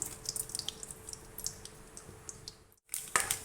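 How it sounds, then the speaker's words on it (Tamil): Mustard seeds and urad dal spluttering in hot oil in a pan, giving a steady scatter of quick pops and crackles over a soft sizzling bed, with a brief pause before a few more bursts. "கடுகு உளுத்தம்பருப்பு போடுறேன்"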